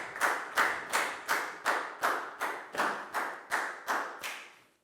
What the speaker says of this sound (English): a big round of applause for Chu, please, guys.